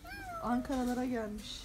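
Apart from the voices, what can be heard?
cat meowing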